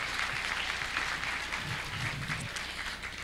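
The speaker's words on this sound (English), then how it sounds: "So big round of applause to Eastlink." Audience applause at a Hal-Con 2014 costume contest, a steady wash of many hands clapping throughout, fairly distant in a large hall with a faint murmur of voices underneath.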